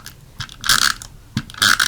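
An adhesive tape runner lays down squares of adhesive for a stamped card project, two quick ratcheting clicks close up, each a short mechanical burst with a gap between them.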